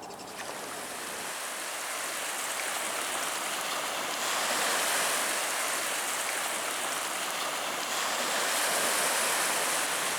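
Continuous broadband watery rush and splashing on the River Thames foreshore, steady and fairly close, with no voices, growing slightly louder midway.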